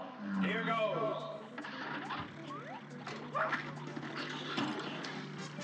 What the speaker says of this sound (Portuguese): Tá, tem um cachorro ali.